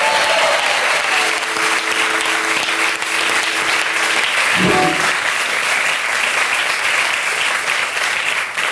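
A TV studio audience applauds comedian Fary, a loud, dense wash of clapping that holds steady throughout, with a brief voice or cheer rising midway.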